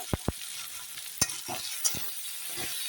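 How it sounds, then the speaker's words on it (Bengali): Potato and brinjal with mixed dal fried in a wok, a quiet sizzle broken by a few sharp knocks and scrapes of a spatula stirring, close by. "কড়াইতে দিয়ে ভালো করে একটু নাড়াচাড়া করে ভেজে নিলাম"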